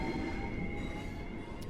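A Thameslink Class 700 train pulls into a station on the Southeastern High Speed line in Train Sim World 3, heard as a steady low rumble with a faint electric whine.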